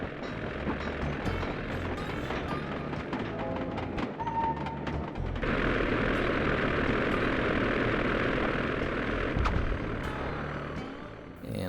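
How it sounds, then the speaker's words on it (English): Aircraft engine drone from the Sly 2: Band of Thieves video game as a plane flies off, a steady loud propeller roar that swells about midway and holds before fading slightly, with no talking. "believe that's the last time we'll ever see of that plane"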